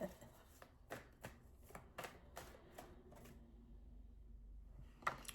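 Tarot cards being shuffled by hand, a quick run of soft riffling taps and slaps, quiet and close, with a short pause and one more flick near the end.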